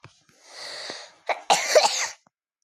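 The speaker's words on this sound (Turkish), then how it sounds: "Öksürmekten kusacağım en sonunda ya." A girl coughs hard at close range, first a long strained breathy cough and then a loud burst of several harsh coughs, alone with no other sound.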